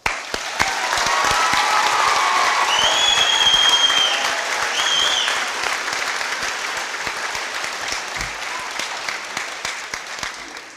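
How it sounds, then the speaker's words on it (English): Graduates are cheered at a graduation ceremony with a long, loud wave of crowd applause and a few whistles, holding steady before gradually tapering into scattered claps. "Everyone, please join me in giving these graduates a round of applause."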